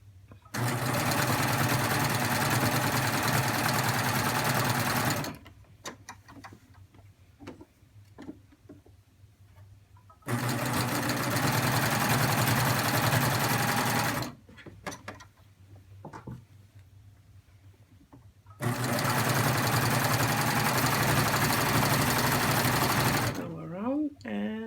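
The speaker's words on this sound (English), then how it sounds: "I'm just top stitching like I would do with a crew neckline" Sewing machine top stitching around a V neckline, running in three long steady bursts of loud, even whirring, with quieter pauses of handling noise between them.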